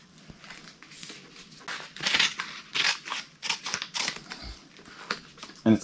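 Scissors snip through a strip of dirt bike graphics decal for a Yamaha YZ250FX, a run of crisp, close cuts in quick uneven bursts, ending with a louder final snip.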